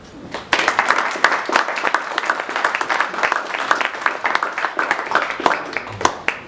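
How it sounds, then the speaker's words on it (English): An audience at a company presentation event breaks into applause after a short lead-in, a dense, lively round of clapping with sharp individual claps that continues to the end. "I think he deserves a round of applause, don't you?"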